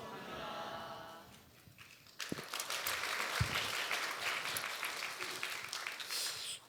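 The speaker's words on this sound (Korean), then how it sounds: "이렇게 박수로 환영해 주셔서 감사합니다." Church audience at a Friday worship service applauding to welcome the preacher, a quieter stretch giving way to a sudden, full burst of clapping that stays strong and steady.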